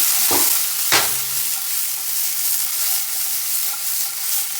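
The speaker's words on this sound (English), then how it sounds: "A little stirring." Breakfast fries in oil in a pan, giving a loud, close, continuous sizzle and hiss, with a couple of sharp stirring knocks near the start.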